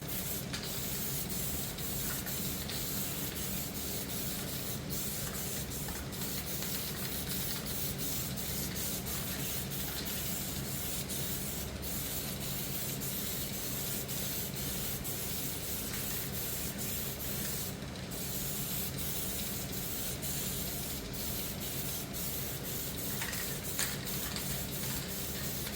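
Steady spray gun hiss laying a thin, even first pass of clear coat onto an imitation motorcycle body panel, continuous and close for the whole stretch with no talking.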